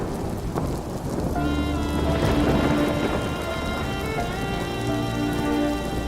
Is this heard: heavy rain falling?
yes